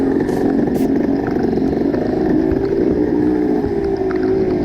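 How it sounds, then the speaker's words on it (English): An old four-stroke vintage racing motorcycle engine at a muddy raceway drones loudly and steadily, its pitch rising slightly as it revs, heard close up with no pause. "I like the sound of that old 4-stroke."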